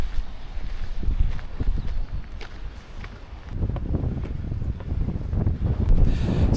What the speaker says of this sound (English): It's quite windy up here for sure.